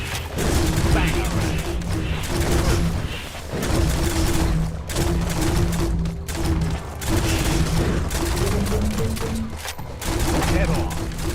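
Gunfire from the video game Biomutant comes in repeated rapid bursts of shots with short gaps between them, loud and close, over game ambience.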